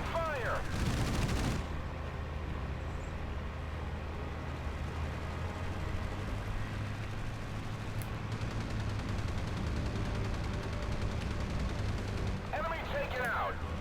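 Battlestations Pacific naval combat near Henderson Field, with a dense, continuous rumble of distant gunfire and artillery bursts throughout, radio-style voices briefly at the start and end.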